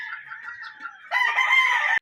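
A rooster crows nearby, a short clucking lead-in rising into a loud, strained crow that cuts off abruptly.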